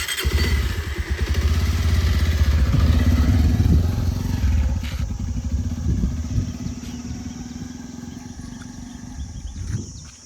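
A motorcycle engine runs with a steady, rumbling drone and faint rattling, fairly close, easing slightly over about ten seconds with no talk.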